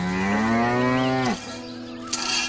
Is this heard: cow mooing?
yes